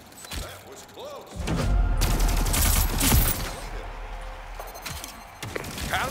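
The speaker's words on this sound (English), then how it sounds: "Sounds like a space gun." Space gun firing in Splitgate 2: dense repeated blasts and whooshing energy shots under a loud, busy game mix, rising in the middle and staying busy throughout.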